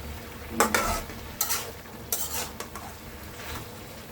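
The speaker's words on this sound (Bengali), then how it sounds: "মশলাটা দিয়ে উল্টায় পাল্টায় মাখাই দেবো শাকটাকে মশলাগুলো" Spice masala stirred through leafy greens in a pan, with a series of scraping, clattering spatula strokes over a low, steady sizzle, close and moderately loud, no voices.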